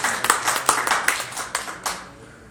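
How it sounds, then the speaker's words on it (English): Audience clapping for a school board trustee candidate at a live event: a brief burst of scattered hand claps, fairly close, thinning and fading out within about two seconds. "Give her a round of applause."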